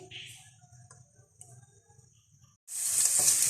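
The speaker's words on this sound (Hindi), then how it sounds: "इसके अंदर डाल देंगे अदरक और लहसुन का पेस्ट। इसको फ्राई करेंगे।" Ginger garlic paste dropped into hot oil in a pan: after a quiet stretch of faint ticking and low hum, a loud, bright sizzle suddenly bursts in and holds steady to the end, with no talk.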